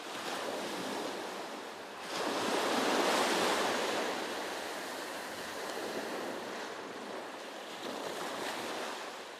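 Sea waves wash and surge around Janjira Fort in Maharashtra, a broad rushing surf with one stronger swell rising and fading, mixed with gusty wind buffeting the microphone.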